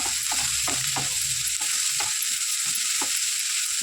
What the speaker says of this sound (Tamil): நல்லா வெங்காயம் ஒரு 5 மினிட்ஸ் வதக்கிட்டு